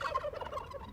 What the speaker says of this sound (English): by pardoning two turkeys named Chocolate and Chip